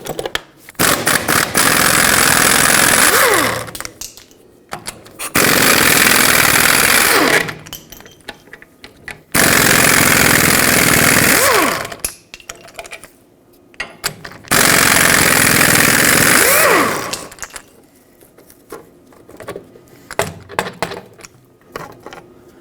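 A power tool hammering off the rear backing plate nuts on a 2009-2011 Ford F-150 axle, four loud rattling bursts of several seconds each with short quiet gaps and clanks in between.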